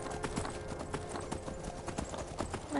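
Horse hooves clip-clopping in Skyrim: a quick, continuous trot of close, distinct hoofbeats in a steady rhythm throughout, without pause.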